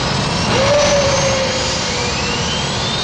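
Engine number 2 on a 1960 jet airliner starts up, a rising turbine whine swelling in over a loud continuous roar, close and unbroken.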